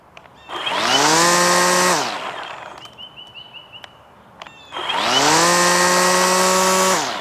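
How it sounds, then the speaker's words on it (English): A loud motorized whine with rising pitch runs in two bursts, separated by a quieter stretch of a steady high hum from an Echo eForce DPAS-2600 56V battery string trimmer switching speed settings. "you can hear how the different settings sound with the string trimmer on"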